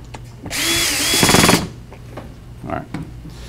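Power drill bores into a workpiece while a three-string panjo is being built, a loud steady whine lasting about a second with rattling bursts at the end, followed by quieter handling noises and brief talk.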